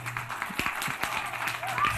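Scattered applause from a small crowd, a few separate claps over faint background voices.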